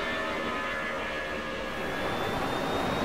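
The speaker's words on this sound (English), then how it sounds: "At 3:24 p.m., Flight 1549 takeoffs from Runway 4" A US Airways airliner on its takeoff roll from LaGuardia's Runway 4 gives off a steady, loud jet-engine roar with a faint high whine running through it, continuous and unbroken, with no voices.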